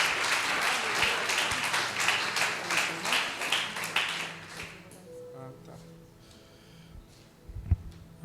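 A Brazilian church congregation bursts into loud, dense applause that carries for several seconds. It then thins and fades to a few scattered claps and taps, with voices in the background.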